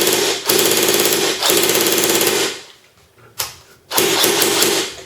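A G&G F2000 airsoft gun with a 9.6 volt battery fires full auto in three long buzzing bursts, a fast, even mechanical rattle, close and loud, with short silences between bursts.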